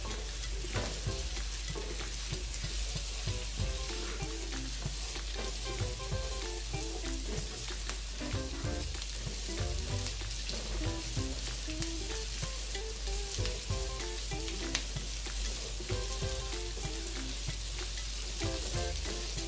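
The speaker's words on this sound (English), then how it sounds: "just going to saute this for another, for an additional 1 minute before adding the coconut milk to it" Curry shrimp sauté in a pan before coconut milk goes in, giving a constant close sizzle and crackle with occasional stirring scrapes and no talk for nearly twenty seconds.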